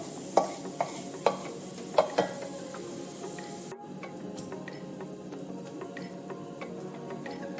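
Ginger pieces in hot oil in a pan, heat just turned off, are lifted out with a slotted spoon: a run of sharp metallic taps and scrapes over a soft crackling sizzle, then quieter steady frying noise; no voices.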